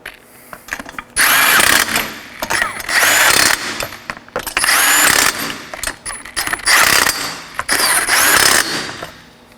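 Ratchet tightening lug nuts on a 2013-2019 Nissan Sentra front wheel, heard as several loud bursts of rapid clicking with short pauses between them, close by and without talk.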